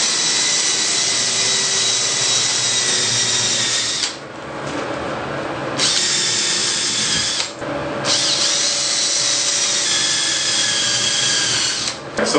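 A power drill bores holes for door hinges, whining loudly and steadily close by, with a few brief pauses between holes.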